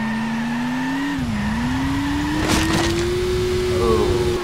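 A car at full throttle in the arcade crash game Turbo Dismount, a steady droning engine whose pitch dips and then climbs gradually, with a short rattling burst midway, no voices.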